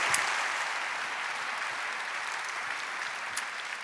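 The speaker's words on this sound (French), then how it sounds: "Je vous propose de les applaudir" A crowd applauds steadily at an entrepreneurs' trade show debate in Paris, dense clapping at moderate volume that starts strong and tapers slightly over a few seconds.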